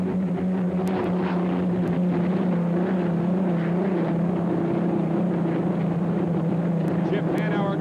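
Unlimited hydroplane racing powerboats accelerating during the 1985 Oklahoma final heat, heard as a steady, distant engine roar mixed with wind noise, with a commentator talking over it.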